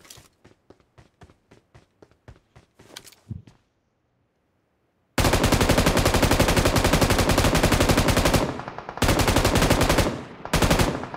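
Gunfire from a gun in the video game BGMI: a rapid string of sharp single shots, a pause, then a long, loud, continuous automatic burst broken by brief gaps near the end.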